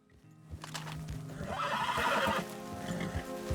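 A horse in Red Dead Redemption 2 lets out a drawn-out whinny over soft hoof clops and quiet game ambience, moderately close and alone without talk.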